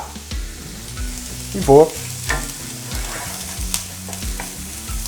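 Onion and bell pepper sauté in hot oil with a steady close sizzle, joined by stirring scrapes and a brief louder clatter near the two-second mark, and a few spoken words are heard.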